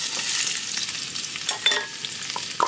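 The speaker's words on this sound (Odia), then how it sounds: "3ଟା ଅଣ୍ଡାର ଅମଲେଟ୍।" Three-egg omelette frying in a pan at an outdoor campsite by a dam, giving a steady close sizzle with a few scraping stirs near the end.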